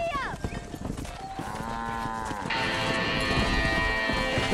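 Cattle herd lowing in Red Dead Redemption, several drawn-out moos rising and overlapping close by, with game music or ambience underneath and a steady tonal layer joining in partway through.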